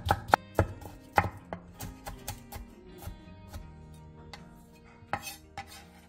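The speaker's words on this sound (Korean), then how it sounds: "청양고추 1개, 홍고추 2분의 1개를 길게 반으로 가른 뒤 쫑쫑 썰어주세요." A knife chops green onion, Cheongyang green chili and red chili on a cutting board, with sharp close taps that come quickly at first, then slow and become sparse.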